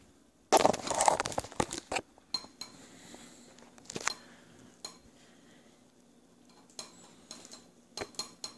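A metal spoon clinks against a bowl as an elderly man feeds himself lentils, with a cluster of sharp scrapes and clinks at first, then sparse, quieter taps and knocks close by.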